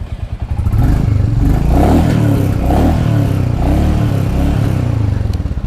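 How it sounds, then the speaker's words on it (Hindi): Loud, throaty exhaust of a Royal Enfield Bullet 350 motorcycle idling and revving steadily, close up, with a rough pulsing rumble and no talking. "अब एग्जॉस्ट साउंड के बारे में बात कर ले"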